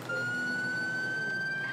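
Police car siren in GTA 5, heard in a UK police mod, holds one steady, slightly rising wail that runs loud and unbroken over a low background rumble for the whole stretch.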